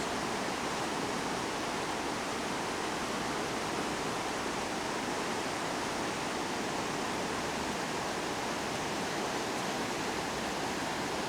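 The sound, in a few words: river water rushing below a hotel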